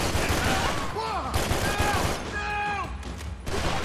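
Gunfire bursts from the video game Max Payne 3, with rapid shots mixed with game sounds and a voice, continuing throughout at moderate loudness.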